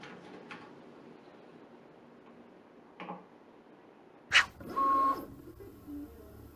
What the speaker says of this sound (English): Now that I've got the printer running, it'll take about 5 or so minutes to complete.